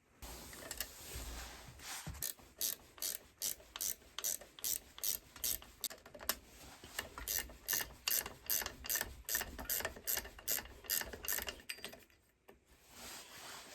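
A ratchet backs out the clutch bolts on a motorized bicycle, giving a rapid, regular series of close clicking pawl strokes that pause briefly and then resume, with no speech.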